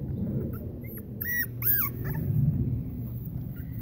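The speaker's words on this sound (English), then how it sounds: "There's puppy number three." A young puppy from a newborn litter gives several high, thin whimpers and yips close by over a steady low background hum.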